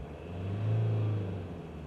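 A car engine is held at a steady 2,500 rpm with the accessories switched off during a battery charging test. The sound is a close, continuous low rumble that swells slightly in the middle and settles back.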